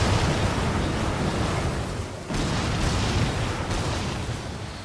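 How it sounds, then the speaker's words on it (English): Heavy, continuous explosive blasts in the video game Darksiders 2 roar in dense bursts, with a brief lull midway before the booming resumes and slowly eases. "Explosions!"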